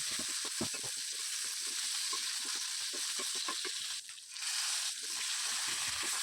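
Kuche eel pieces frying with salt and turmeric in a pan, a soft continuous sizzle and hiss with faint crackles, fairly quiet and steady, without talking.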